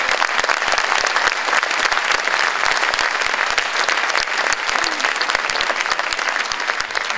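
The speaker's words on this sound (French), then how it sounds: "on peut les applaudir bien fort." A concert audience gives loud, dense applause to music school teachers, a steady wash of many hands clapping close by that continues without a break throughout.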